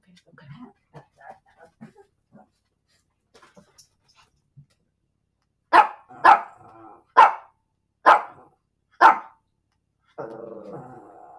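A pet dog lets out five sharp barks in quick succession, close and loud, with people talking quietly before the barking and again just after it.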